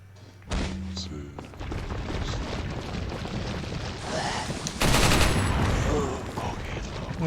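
Gunshots in the video game Resident Evil 4, loud sharp reports and thuds spread across several seconds, with a louder burst partway through and a voice speaking alongside.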